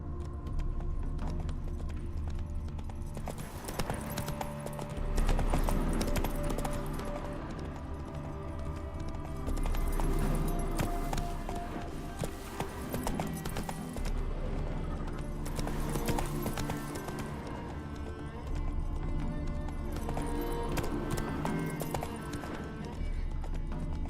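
Hooves of Roach, the horse in The Witcher 3, pound in a steady galloping clip-clop for a long stretch, with a brief whinny, mixed loudly over droning in-game music.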